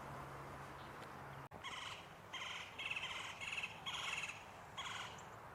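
A bird squawks outdoors in a repeated run of harsh, raspy calls, about six bursts close together after a brief click, over faint background hiss, fairly quiet and alone.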